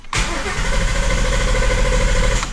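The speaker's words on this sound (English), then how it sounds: "I'm gonna start it again and then maybe it'll sound cammed" A car engine with dry fuel lines cranks and catches, then settles into a loud, steady idle close by, with no voices.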